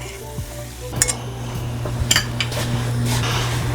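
Eggs hitting a hot cooking surface during brunch prep, with a steady sizzle rising beneath a few clinks and scrapes of utensils against the pan, close and moderately loud.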